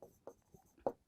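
Chalk or marker strokes on a board during a maths lesson, four short scratchy bursts spaced about a quarter second apart, the last one loudest, quiet and close with no talking.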